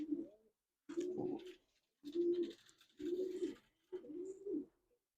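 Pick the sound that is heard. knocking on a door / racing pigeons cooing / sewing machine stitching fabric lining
racing pigeons cooing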